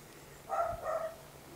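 A dog barks twice in quick succession out in the countryside, the yaps fairly faint and a little distant against a quiet background.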